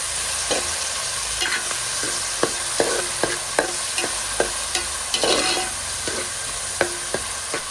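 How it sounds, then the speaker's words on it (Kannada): Onions, curry leaves and tomatoes fry in a pan for a Mangalorean crab sukka, a steady close sizzle broken by regular scraping clicks of a spoon stirring every half second or so. "ಕರಿಬೇವು ಹಾಗೆ 3 ಟೊಮ್ಯಾಟೊನ ಸೇರಿಸಿ ಪುನಃ ಸ್ವಲ್ಪ ಫ್ರೈ ಮಾಡಿಕೊಳ್ಳಿ."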